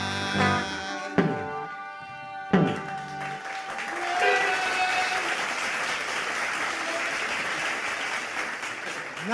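Audience applause for a chorus group at a live radio broadcast, starting with a few sharp claps before swelling into sustained, even clapping from a moderate crowd, fairly loud and continuous.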